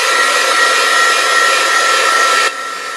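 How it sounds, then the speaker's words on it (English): A heat gun blows a steady, loud, close whoosh while drying paint on a craft project, then drops to a lower setting near the end, with no talking. "So I'm just going to use our heat gun."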